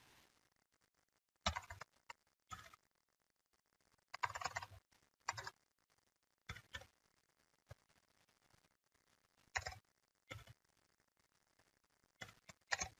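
Typing an email on a computer keyboard: short bursts of quick, light key clicks separated by quiet pauses, close and soft, with no speech.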